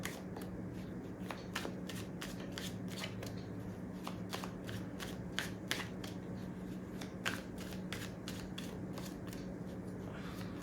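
Tarot cards are shuffled by hand, a quiet, continuous run of crisp riffling flicks and snaps that repeats steadily throughout without pause.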